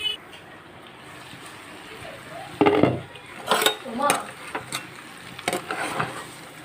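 Metal pot and lid clanking as a pan of jackfruit curry is covered, with several sharp, close clinks and clatters over quiet kitchen background.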